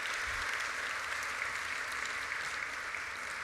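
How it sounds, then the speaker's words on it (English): An audience at an awards ceremony applauds in a steady, dense wash of clapping that runs throughout without talk. "Another round of applause."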